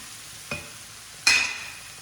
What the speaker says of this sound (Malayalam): എന്നിട്ടൊന്ന് മിക്സ് ചെയ്ത് കൊടുക്കാം